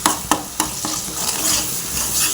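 Tomato, green chili and onion paste fries in oil with a dense, hissing sizzle, punctuated early by three or four sharp utensil taps and scrapes, then steady bubbling close by.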